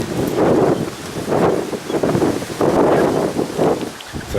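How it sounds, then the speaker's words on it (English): Strong gusts buffet an outdoor microphone on a cold, sunny, extremely windy day, producing heavy rumbling wind noise that surges and fades in repeated waves. "So sorry for the wind noise"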